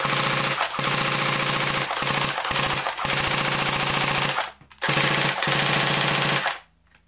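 Loud bursts of rapid automatic fire from a Marushin UZI electric airsoft gun, several long strings with brief pauses between them, close and alone.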